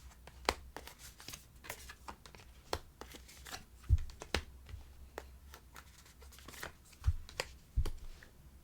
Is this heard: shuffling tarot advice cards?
yes